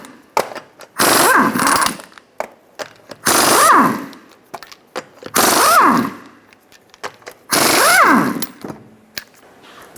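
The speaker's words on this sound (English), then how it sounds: "Remove your 5 21mm lug nuts." Bursts of an impact wrench spin off the 21mm lug nuts on a Nissan Altima wheel, four loud whirring runs separated by short pauses and small clicks.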